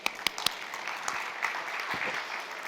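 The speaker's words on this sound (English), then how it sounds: "I think that we can give a round of applause to each other." Light, scattered applause from a keynote audience at a space start-up conference, a few sharp claps up front thinning into soft, distant clapping.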